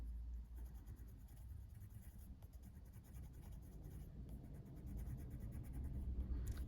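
A blunt colouring pencil scrapes steadily across a colouring book page, a continuous close, soft scratching texture of strokes with no talk.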